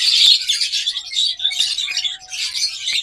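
Pair of olive opaline lovebirds chirping in a cage, loud and close, with continuous high, scratchy twittering calls in overlapping bursts and no talk.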